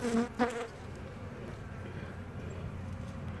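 Honeybees buzz in a steady, low drone throughout, with a couple of brief louder tones near the start.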